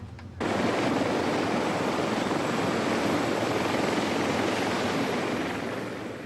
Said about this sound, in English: The noise of the flight deck creates its own fatigue